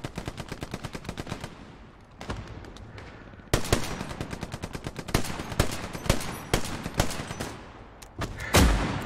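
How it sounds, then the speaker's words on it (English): Video-game gunfire in Hell Let Loose lays down suppressing fire in rapid automatic bursts, loud and close, with sharper single shots punctuating the steady rattle. "Kind of just laying down, suppressing fire"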